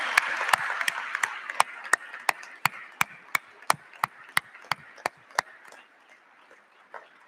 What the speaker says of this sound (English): please join me in giving the Stockton University class of 2021 a big round of applause